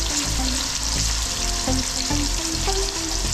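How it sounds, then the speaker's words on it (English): Pieces of meat searing in very hot oil in a pot give a dense, continuous sizzle, loud and close, with no voices over it. "So I'm gonna let these sear and I'll be back."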